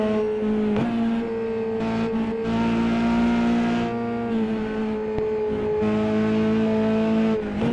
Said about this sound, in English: And he's closing right up to Van Gien as they barrel down the hill at turn 2 and into the SS section.